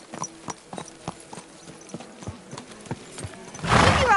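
Horse hooves clip-clop in the medieval video game Kingdom Come Deliverance 2, a steady run of fairly quiet, evenly spaced hoofbeats that ends in a louder burst of noise.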